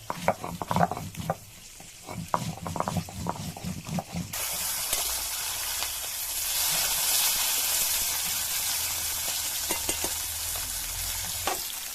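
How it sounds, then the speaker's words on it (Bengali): Rohu fish frying in hot oil in a home kitchen: a few utensil clinks and stirring sounds at first, then a sudden strong, continuous sizzle and hiss that fills the rest. "মাছ ভাজা হয়ে গিয়েছে, আমি তুলে নেব।"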